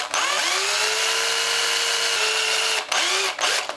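A power drill bores shallow eye sockets into a handmade fishing lure body, a steady close whine running almost four seconds, with a short break and a brief restart near the end.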